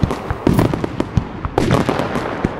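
Fourth of July fireworks bang and crackle in quick bursts, loud and close, with a brief pause before another volley of sharp pops.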